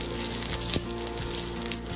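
Sliced onion sizzles steadily in hot oil in a pan while Filipino bistek tagalog is cooked, a dense, continuous frying hiss without pauses.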